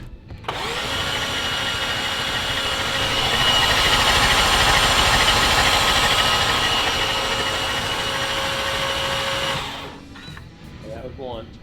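A built, big-turbo BMW M340i engine cranks over with its spark plugs removed for about nine seconds, a loud steady whirring drone from the starter that then cuts off, followed by brief faint sounds.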